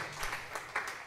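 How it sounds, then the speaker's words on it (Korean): A church congregation breaks into a short burst of applause, a dense patter of many hands clapping at once, steady and moderately loud for about a second. "박수 한번 주고 하겠습니다"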